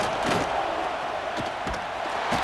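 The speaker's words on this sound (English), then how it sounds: "this home crowd is fired up and ready to make a difference today" Home stadium crowd in the College Football 26 video game roars in a steady, dense wash of cheering, with a few sharp thumps punctuating the noise.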